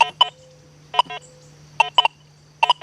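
Short bursts of Deus 2 metal detector target tones as the coil sweeps over a nickel on channel 5, heard as three paired beeps that come quickly one after another over a steady low hum, close and clear.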